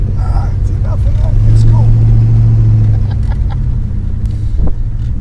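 A 1970s Cadillac deVille rolls along with a steady low engine hum and road rumble, a faint brief tone in the middle, while people talk over it inside the car.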